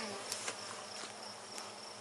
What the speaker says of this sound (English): There's some bees in there.